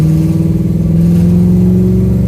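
The deep exhaust drone of an LS V8 swapped into a third-generation Chevrolet Camaro while driving, steady and loud with a slight rise in pitch.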